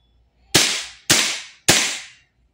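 A Kingarms TWS 9mm gas blowback airsoft carbine fires three sharp, evenly spaced shots about half a second apart, each a loud close crack with a short decaying hiss, clear and alone.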